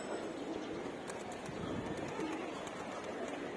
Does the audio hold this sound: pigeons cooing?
yes